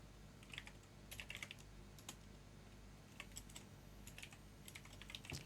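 Someone types on a computer keyboard while working in Roblox Studio, with soft scattered key clicks in small quick clusters, faint and close, ending in one sharper tap.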